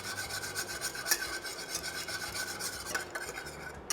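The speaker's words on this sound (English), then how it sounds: "we use the whisk to separate the pulp from the seed" A whisk scrapes and rasps steadily through hot, simmering tamarind pulp in a pot, working the pulp off the seeds in continuous close stirring strokes with no voices.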